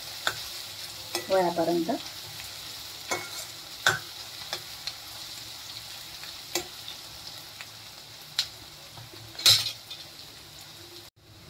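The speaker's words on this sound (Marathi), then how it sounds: "कांदा चांगला ब्राऊन होईपर्यंत भाजूया आपण" Chopped onions fry in a pan until brown, making a low sizzle broken by scattered clinks and scrapes of a utensil stirring them. A short spoken word comes near the end.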